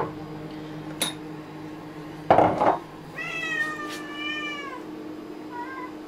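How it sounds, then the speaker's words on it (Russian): A house cat meows indoors: a drawn-out, fairly clear meow followed by a shorter, fainter one, preceded by a brief clink of a dish or glass, with no talking. "Что за мяу?"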